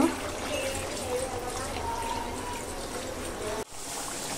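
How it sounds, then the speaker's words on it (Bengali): Water poured into a pan of cooking chicken curry makes a faint, steady trickling pour, with a short clunk near the end. "এখন আমি পানি দিয়ে দিব।"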